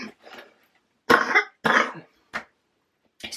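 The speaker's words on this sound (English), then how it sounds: "I don't know where that coughing spang came from." A few sharp, close coughs in a short burst, separated by quiet pauses, with a faint throat-clearing sound at the start.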